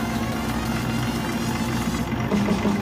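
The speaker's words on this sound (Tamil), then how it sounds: "இன்ஜின் ரொம்ப ஸ்மூத்தான இருக்கும்." A Tata Tiago diesel car engine idles at a dealership in Trichy with a steady, smooth low hum and even mechanical murmur, close and continuous with no other sounds.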